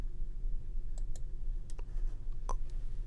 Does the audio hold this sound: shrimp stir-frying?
no